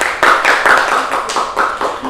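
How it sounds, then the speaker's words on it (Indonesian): Several people in a classroom clap together in a short burst of distinct, close hand claps keeping a fairly steady rhythm. "Tepuk tangan untuk Mbak Sinta."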